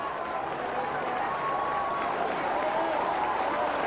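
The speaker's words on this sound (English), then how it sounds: "to some warm applause from the Subiaco crowd" Warm applause from the Subiaco stadium crowd at an AFL match between West Coast Eagles and Sydney Swans, a steady, broad wash of clapping and crowd noise filling the whole stretch under continuous background din.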